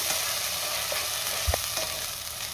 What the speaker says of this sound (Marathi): पुन्हा दोन मिनटं मी चांगलं परतून घेते